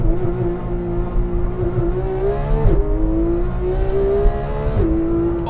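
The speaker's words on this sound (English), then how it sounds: "this is probably going to be more of a burnout than a launch" A Porsche 991 911 GT3 on a cold morning, its engine holding a loud, steady, high-pitched note close by, with two brief dips and recoveries as the revs shift during a burnout-style launch.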